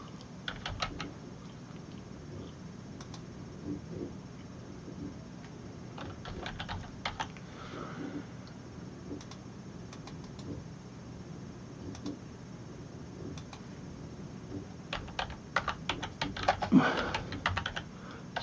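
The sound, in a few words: typing on a computer keyboard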